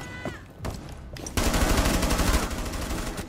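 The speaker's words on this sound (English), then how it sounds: "You're shooting his dead body." Rapid automatic gunfire from a video game rattles continuously for nearly two seconds, loud and close, after a few scattered single shots, as a player keeps firing on a fallen enemy's body.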